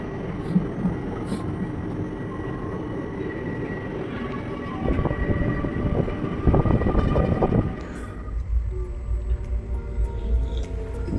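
A special express passenger train running on the Santragachi to Puri route near Cuttack and Bhubaneswar, heard onboard as a loud steady rumble with rhythmic wheel clatter that grows heavier, then drops to a quieter hum.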